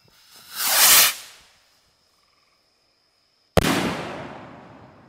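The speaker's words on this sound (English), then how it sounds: "here goes the first salute rocket of the evening" A salute bottle rocket launches with a rising, rushing hiss, then after about two quiet seconds bursts in a single loud, sharp bang that echoes and fades away outdoors.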